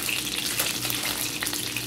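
A burger patty frying in a pan, the first side finished: a steady, dense sizzle with faint crackles and pops, continuous and fairly close, with no voices.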